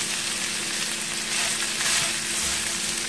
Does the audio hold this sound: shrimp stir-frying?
yes